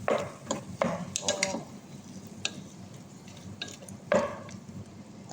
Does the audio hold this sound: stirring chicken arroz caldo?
yes